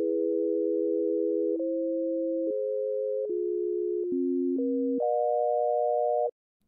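A justly tuned cross terrain modulation chord progression plays as smooth, pure sustained tones, seven chords changing every second or so with no gaps, steady and clean until a sudden stop, with no voices.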